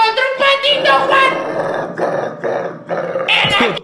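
A dog growls in a rough, continuous rumble that rises and falls in several bursts, loud and close, with a sharp snarl near the end during a Fall Guys gaming session.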